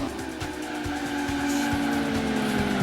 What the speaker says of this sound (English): And getting a bit sideways. A bit of tyre smoke coming from me there as well.